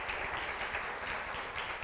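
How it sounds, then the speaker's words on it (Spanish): A church congregation applauds during a worship service, a dense, steady wash of clapping from many hands at moderate distance, with no voices standing out. "Démosle un aplauso al Rey de Reyes"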